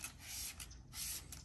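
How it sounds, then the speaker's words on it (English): Superior Image Show Shine detail spray hisses in short bursts onto the big wheels of a huge lifted truck, close up, with a brief pause between sprays. "next we're using the Superior Image Show Shine Detail Spray"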